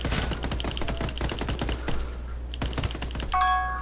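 Gunfire in a Ghost Recon ranked PvP match, with rapid bursts of shots and sharp cracks in quick runs, a pause near the middle, then more shots and a brief electronic tone at the end.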